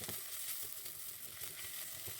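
Lamb meat stirred with a small chopped onion in a hot pan, a steady close sizzle with soft scraping of stirring, no talking.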